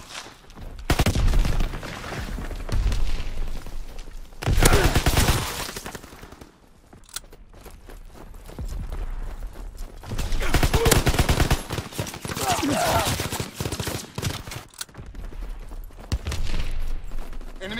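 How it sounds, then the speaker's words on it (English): Heavy gunfire from an enemy aircraft strafing run in the World War II shooter Call of Duty WWII, loud sustained bursts separated by quieter gaps, with no speech. "Enemy strafing run inbound."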